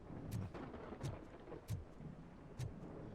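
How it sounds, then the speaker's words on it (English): Rain falling outside, heard from indoors as a faint, steady hiss with occasional soft low rumbles underneath and no voices. "It is raining."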